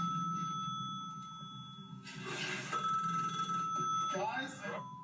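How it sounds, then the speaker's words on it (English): A hotel room telephone at Manresa Castle rings with a steady electronic tone beneath excited voices talking nearby, fairly quiet and continuous. "the phone was ringing and no one is in this hotel"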